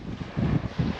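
Cold wind buffets an outdoor microphone at a camper stop on Fuerteventura in the Canary Islands, a steady low rumble that swells in two stronger gusts with no voices.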